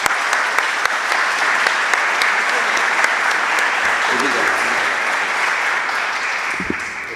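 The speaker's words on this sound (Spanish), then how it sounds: "Démosles un gran aplauso al ingeniero Cirumbal." An audience at a lecture on the seismic behaviour of timber structures gives a speaker, engineer Cirumbal, a sustained round of applause, dense, even clapping throughout with a few louder individual claps and faint voices near the end.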